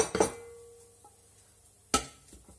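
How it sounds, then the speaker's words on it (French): Choux pastry dough knocked from a saucepan into a mixing bowl makes a clattering scrape and thud, a soft metallic ring, then a second sharp knock against the bowl, close and without speech. "Je la transfère dans un saladier."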